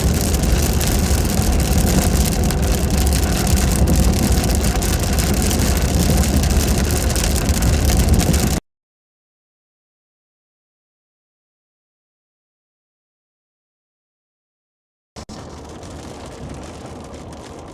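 Heavy storm rain roars loudly and steadily on a vehicle during a nighttime tornado chase, drops out to silence, then comes back quieter as a dense wash.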